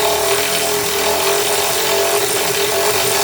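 A power tool whirs steadily and loudly while nuts are tightened on the breather hose of a 1980 Mercedes 300SD, a continuous high buzzing with no pauses.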